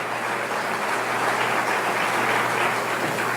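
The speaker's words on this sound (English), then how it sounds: "Clap for that, that's a lot of money." Steady, dense audience applause fills a hall during the 2017 Stockton State of the City address, a continuous loud wash of clapping with no pauses and no talk over it.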